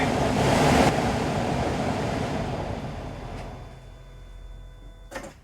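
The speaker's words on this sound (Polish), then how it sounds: "teraz idziemy zobaczyć, czy nasz wentylator nowy działa." A newly fitted Renault cabin heater blower fan runs at top speed, making a loud, broad rushing whoosh that starts strong and then slowly fades. A faint click comes near the end.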